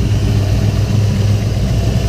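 A Chevrolet Nova V8 engine runs steadily at idle, a loud, close, low rumbling throb with an even pulsing rhythm and no voices.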